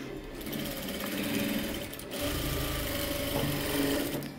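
Sewing machine running steadily while stitching pleated lining with a single presser foot and zari thread, a continuous close mechanical whir with a brief pause partway through and no voices.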